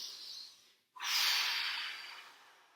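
After an exercise interval, a person breathes in briefly, then lets out a long, forceful, airy exhale, close to the microphone and with no talk.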